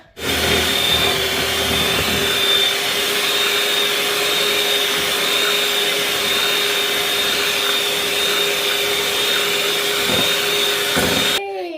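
An electric mixer whirs steadily and loudly, beating butter and sugar for a butter cake. The drone stays constant for about eleven seconds before cutting off.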